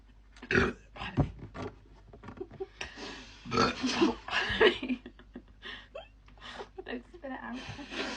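A forced burp after drinking Sprite stands out as a short guttural burst amid chatter and laughter, with several other brief throaty bursts in a noisy, lively stretch.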